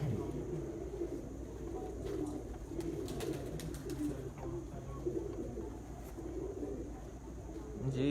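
Pigeons of a champion Punjab racing flock settling at a loft in Sialkot coo softly and repeatedly amid steady outdoor background noise, with faint voices talking in the distance.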